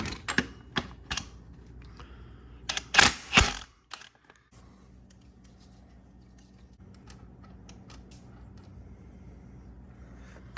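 An impact wrench on the 24mm power steering pump bolt of a 2010-2014 Genesis Coupe 2.0T rattles in a few short, sharp clattering bursts, then gives way to a low steady hum.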